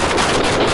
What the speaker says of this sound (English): A gunshot rang out, and officers responded immediately.